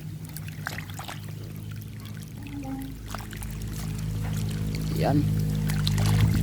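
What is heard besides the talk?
water flowing from a solar-powered submersible pump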